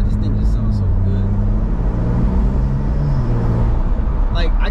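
A BMW M340i on the road with its aftermarket exhaust droning steadily, a low continuous rumble that shifts pitch gently as the car cruises, close and prominent throughout.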